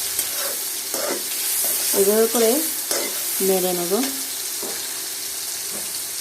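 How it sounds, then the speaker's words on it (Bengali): Dried fish sizzles and crackles in a hot pan as it is stirred, while a person speaks briefly over the frying. "একটু ভাজা ভাজা করব কারণ হচ্ছে শুটকি চাইলে গন্ধটা বেশি থাকবে না"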